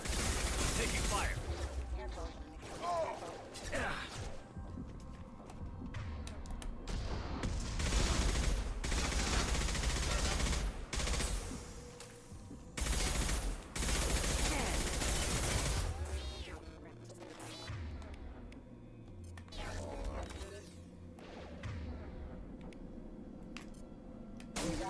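Gunfire and combat in the video game Mass Effect 2, dense bursts of shots and explosions in loud clustered volleys, with game voices and a player talking over the fighting.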